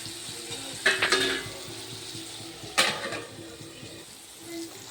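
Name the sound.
spices being stirred and cooking in a pan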